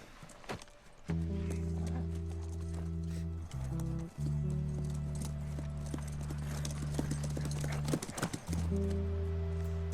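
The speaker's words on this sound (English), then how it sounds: "Can I pat the horse?" Horse hooves clip-clop steadily in The Last of Us game, with a whinny mixed in, loud and close over a sustained musical drone.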